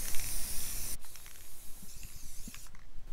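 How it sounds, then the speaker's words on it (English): Spray paint hisses from an aerosol can outdoors during a kitchen table makeover, with a loud burst of spray followed by quieter intermittent hissing and faint rattles. "just spray some spray paint"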